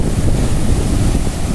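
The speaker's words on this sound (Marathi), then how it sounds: "लाटा बघा कसं येत आहे" Ocean waves break on the Harihareshwar shore in a brief burst of steady, loud roaring surf. Gusting wind rumbles against the microphone, and no one speaks.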